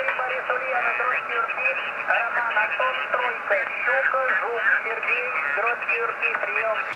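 A voice speaking Russian comes through a narrowband amateur radio channel, thin and filtered, speaking continuously over a steady hiss of static.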